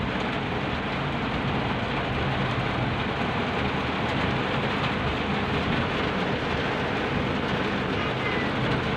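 A hail storm pounds down with heavy rain, heard along a road trip from Clark airport as a loud, continuous dense roar of hail and rain with low rumbling beneath and no voices.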